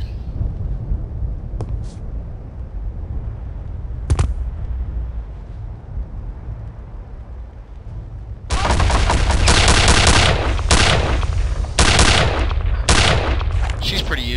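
Submachine gun fire in Return to Castle Wolfenstein: a quiet stretch with a couple of sharp isolated cracks, then loud rapid bursts of automatic fire erupting in several rattling volleys near the end.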